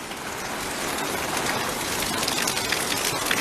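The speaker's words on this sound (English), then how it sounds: "This is what you gotta call one rainy day." Steady rain pours down on a wet day in St Lawrence Gap, a dense, even hiss of drops on surfaces that swells slightly louder toward the end, with no talking.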